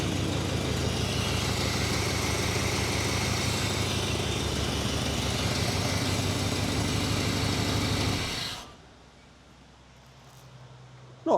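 An old Chevrolet C10 squarebody truck engine, stored for 21 years with a freshly rebuilt carburetor, idles loudly with an uneven, lumpy chug for several seconds, then shuts off abruptly, leaving quiet.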